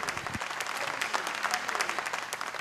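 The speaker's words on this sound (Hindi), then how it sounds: "मैं चाहूँगी ज़रा ज़ोरदार तालियाँ हो जाए उनके लिए" An audience at a police awards ceremony gives a round of applause, crisp individual claps crackling through a steady, moderately loud ovation that holds throughout.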